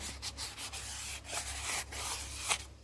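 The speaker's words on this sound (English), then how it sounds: "The inside I'll really just do right around the rim with my buffing wheels" A polymer clay bowl rim is buffed by hand with buffing wheels, giving a steady close scratchy rubbing that carries on continuously with small swells and a brief louder stroke near the end, no voices.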